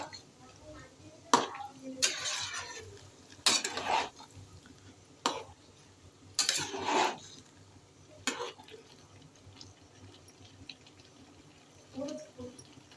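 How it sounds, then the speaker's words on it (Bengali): Pointed gourd (turul) sautés in a pan while a spatula scrapes and stirs in several short, irregular bursts. A faint sizzle runs underneath, and a voice talks in between. "তুরুলটা এখন আমি ভালো করে কষিয়ে নিচ্ছি।"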